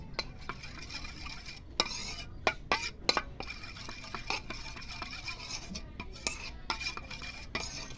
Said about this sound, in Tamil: இப்போ இது ரெண்டும் சேர்த்து நல்லா இப்படி கலக்கிக்கணும்